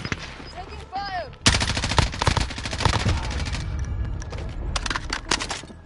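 Dense, sustained video-game gunfire, with loud overlapping automatic bursts and single shots crackling for several seconds after a short whistling tone at the start, heard alone and close.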